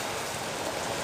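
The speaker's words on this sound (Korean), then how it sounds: "여러분, 빗소리 들리시나요?" Spring rain falls steadily outside, a dense even hiss of drops pattering on surfaces, continuous and moderately loud with no other sounds.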